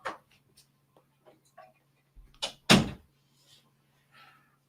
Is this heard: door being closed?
yes